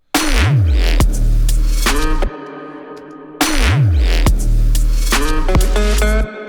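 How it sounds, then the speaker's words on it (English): A soloed electric guitar lick with sub bass underneath, from the Ableton track "Low Winter Sun", plays a loud phrase, pauses on a sustained tone, then repeats the same phrase. "I got the sub underneath this guitar lick that I laid down"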